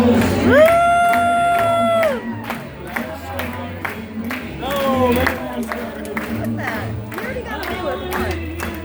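A cruise ship crowd at a newlywed game show claps and cheers, with long, drawn-out whoops and shouts rising repeatedly over steady applause and a low thump of background music.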